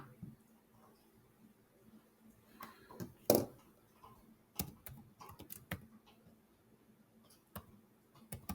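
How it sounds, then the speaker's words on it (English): Keys on a computer keyboard are tapped quietly as an equation goes into Desmos, with irregular bursts of clicks and a few sharper strokes over a hushed room. "I'm going to go over to Desmos and type this in."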